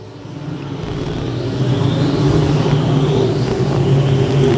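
Race cars roar past through the turns at the I-35 Speedway during a USRA Nationals A-main, a loud, sustained engine drone that swells as the pack speeds by.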